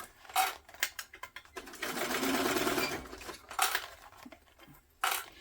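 A sewing machine stitches a tote bag seam in short runs, with a longer steady burst in the middle, close by and fairly quiet, separated by small handling clicks.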